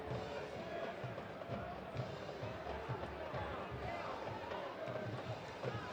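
A sizable crowd of about ten thousand soccer fans at Lynn Family Stadium in Louisville fills the air with a steady, dense roar and babble, continuous and broad throughout, with no single voice standing out.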